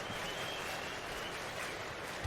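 A New York arena crowd in the NBA 2K23 basketball game roars and cheers as a steady, dense wash of noise, loud and unbroken for the whole stretch.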